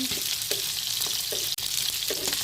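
Tilapia fish roe frying in oil in a pan gives a steady, close sizzle, broken by light stirring or scraping knocks roughly every half second.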